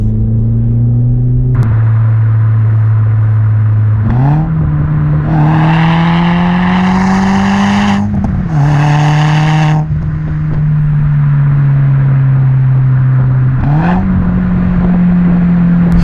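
A Volkswagen Polo GTI engine drones loudly from close by, rising in pitch as it accelerates, with a few sharp revving bursts between gear shifts.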